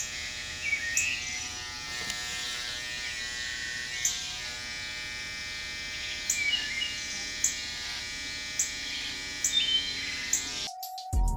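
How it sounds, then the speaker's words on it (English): Birds chirp outdoors in short, repeated high tweets over the steady buzz of electric clippers during a haircut, the calls moderately close and regular. "Did y'all hear them beautiful birds, man?"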